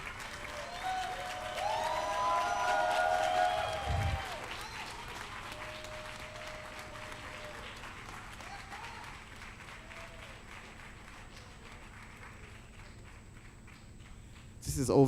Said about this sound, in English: please give MC Deborah a round of applause